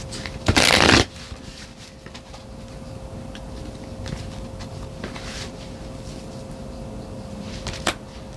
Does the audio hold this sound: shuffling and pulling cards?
yes